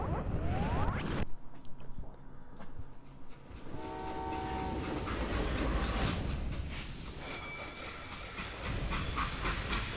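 A steam-era freight train in the Western video game Call of Juarez: Gunslinger rolls along with loud hissing steam, clanking rail noise and whistle-like horn tones, continuous and close.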